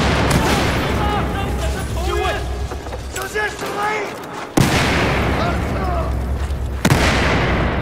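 Grenade blasts and gunfire in Battlefield 4 during a Shanghai mission, with sudden loud booms and a steady bed of combat noise, and someone talking over it.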